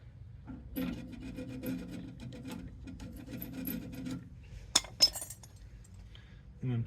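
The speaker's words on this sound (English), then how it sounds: "I'm taking this brush for cleaning copper pipes before you solder them together and scrubbing the hole out here." Wire brush for cleaning copper pipes scrubbing inside the eye of a trailer leaf spring, giving repeated close raspy strokes in bursts with short pauses and a couple of sharp metallic clinks near the end.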